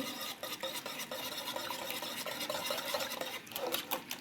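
A utensil briskly stirs eggs and cow's milk in a bowl, a quick run of close scraping and clinking strokes that keeps going throughout with no talking.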